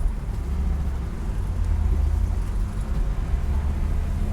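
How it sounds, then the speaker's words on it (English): Low, continuous rumble of road traffic, vehicles passing steadily nearby with no voices. "A lot of traffic here today."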